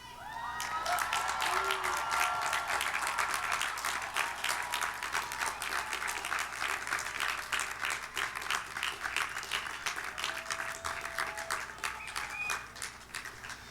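A large gathering of graduates at a residential commons diploma ceremony applauds their families, with dense, sustained clapping and a few cheers and shouts mixed in throughout, gradually thinning slightly toward the end.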